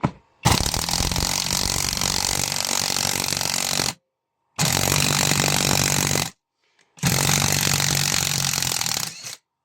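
A 20V impact driver drives a screw into material with no pilot hole and stalls, giving three long, loud bursts of steady motor whine, each cut off by a sudden stop and a brief silence.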